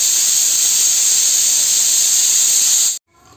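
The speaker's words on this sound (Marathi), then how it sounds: "3 आता मी उघडून घेते कुकर." Steam hisses loudly and steadily from a pressure cooker as its lid is opened after cooking country chicken curry, a constant sharp jet that cuts off abruptly near the end.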